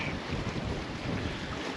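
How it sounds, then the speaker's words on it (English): Strong wind gusts across a rural vacation property in Canada on a blustery day, a steady broadband rush with buffeting against the microphone throughout, no voices. "Very windy."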